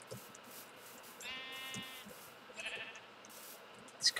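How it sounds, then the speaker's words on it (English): A sheep bleats twice in the video game Minecraft, a clear buzzy bleat followed by a shorter one, over quiet ambient background. "Sheep."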